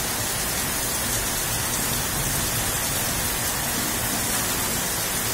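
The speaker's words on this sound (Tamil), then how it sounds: "நல்ல மழை, செம" Heavy night rain in Perambur, Chennai, at 8 PM, falling hard with gusting wind: a dense, steady, full-band roar of downpour with no pauses, loud and close throughout.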